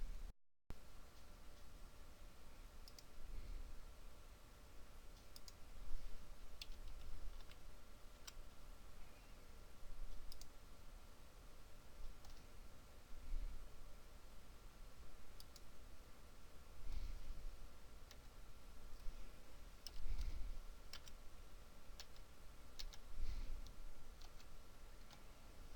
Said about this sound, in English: We will click on the Add Procedure button and enter the information for intubation.